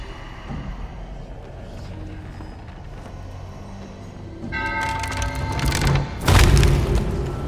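A ship's cannon fires in the pirate game Sea of Thieves, a single loud, deep boom near the end, preceded by clattering, ringing in-game clatter and ambient sea noise.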